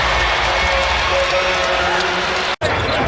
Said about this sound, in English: Crowd just settling in.